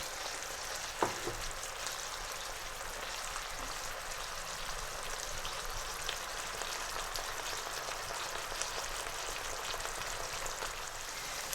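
Potatoes with salt for Punjabi achari aloo frying steadily in a pan, a continuous crackling sizzle that holds even throughout, with one brief clink near the start and no talk.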